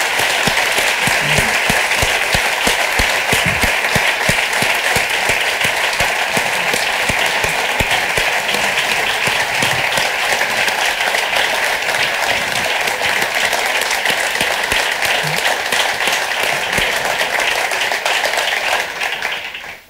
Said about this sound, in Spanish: Un aplauso, sí, por favor.